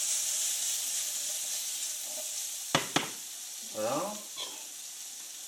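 Salmon sizzles steadily in a pan with a constant bright hiss, broken by two sharp utensil knocks, and someone speaks briefly over the frying.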